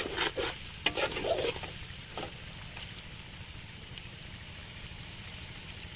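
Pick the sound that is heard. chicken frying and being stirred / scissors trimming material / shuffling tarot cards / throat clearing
chicken frying and being stirred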